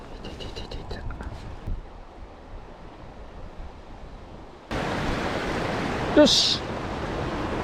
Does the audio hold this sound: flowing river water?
yes